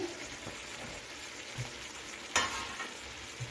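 Eggplant pieces fry in a pan with a steady, fairly quiet sizzle, broken by a few soft knocks and one sharper clatter partway through.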